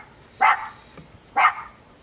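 Two brief, distant dog barks about a second apart carry across a backyard, with a constant high insect drone underneath.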